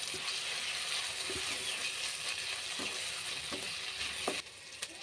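Curry leaves and chukka kura greens hit a hot frying pan, giving a dense continuous sizzle and crackle with occasional soft stirring knocks, close and steady throughout.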